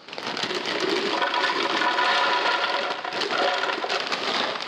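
About half a bag of Flamin' Hot Cheetos, roughly 4.5 to 5 ounces, pours out in one continuous crinkly rustle and rattle of crunchy snacks, fairly close and steady, with no talking.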